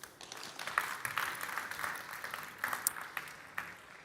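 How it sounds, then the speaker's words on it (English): A modest audience at a Pitchnext software and service startup pitch event claps after a presentation; fairly faint, thin applause with a few sharper individual claps standing out, no talk. "Applause, please."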